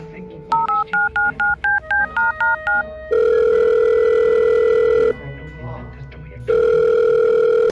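A rapid string of telephone keypad beeps, followed by two long electronic ring tones separated by a short pause.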